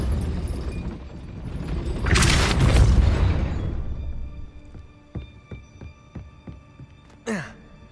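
A Depulso spell blast in the game Hogwarts Legacy lands as a loud booming whoosh, followed by a series of smaller thudding impacts and clatters that trail off, with a short vocal sound at the end.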